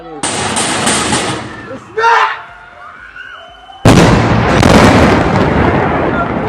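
News footage of an Iranian attack on Jenin: loud bursts of explosions and gunfire, a sharp blast near the start, a quieter lull with a brief crack, then a sustained heavy roar of fire to the end.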